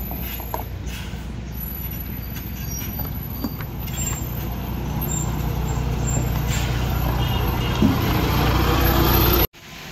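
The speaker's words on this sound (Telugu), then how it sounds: "సో ఇంకొక లారీ అయితే ఎక్కడం అయితే జరుగుతుంది" A heavily loaded lorry labours up a steep ghat road, its engine a steady low rumble that slowly builds in loudness over several seconds, with brief mechanical hisses and clanks on top and no voices.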